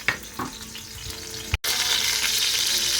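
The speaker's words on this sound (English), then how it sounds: "so we got some sizzle going on" Ground beef and sausage sizzle loudly in a hot pan. A few clinks and a brief pause come first, then a dense, steady frying hiss takes over.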